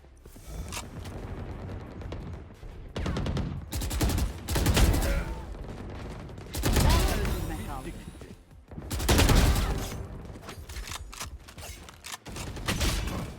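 Bursts of gunfire in Valorant, a deathmatch with the Phantom rifle, coming in several loud volleys separated by short lulls, with faint mechanical clatter between them.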